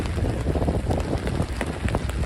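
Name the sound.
steady rain in a Manhattan rain storm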